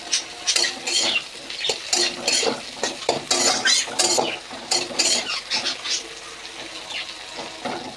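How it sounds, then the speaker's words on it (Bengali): Bitter gourd and pumpkin frying in a pan are stirred with a utensil, giving repeated scraping and clattering strokes in an uneven rhythm over a steady close sizzle, with no talking. "একসাথে ভালো করে নেড়ে নিই।"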